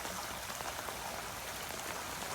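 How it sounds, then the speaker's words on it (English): Heavy rain falls outdoors during flooding at Harthill, a dense, continuous patter and hiss of drops on surfaces, even and unbroken, with no voices. "it's raining even heavier now"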